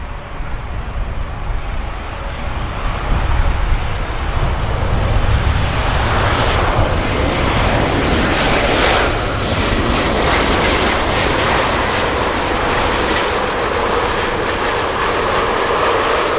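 A Scandinavian airline Embraer jet on the runway at Manchester Airport, a broad, steady roar of engine noise that swells after a few seconds and holds loud and constant, heard from some distance with no talking.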